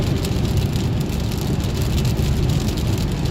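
Rain drums steadily on a car during a drive to work, a dense, loud hiss with low road rumble underneath and no voices.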